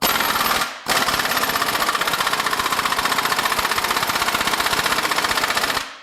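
An impact wrench with a weighted Ingersoll Rand 19 mm socket hammers on the crank bolt of a Honda CR-V 1.5L engine. It makes a loud, rapid, steady rattling burst, briefly stops, then runs for about five seconds before cutting off.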